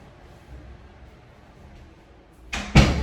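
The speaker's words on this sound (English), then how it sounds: "Let me close this door." A door is pushed shut indoors, two close knocks at the very end after quiet room tone, the second louder as it latches.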